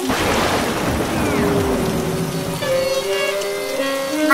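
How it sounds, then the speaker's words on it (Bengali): A cartoon sound effect of rain beginning to fall, a loud, steady hiss of downpour with rumbling thunder underneath and faint tonal chimes entering partway through. "বলতে না বলতে বৃষ্টি শুরু হয়ে গেল।"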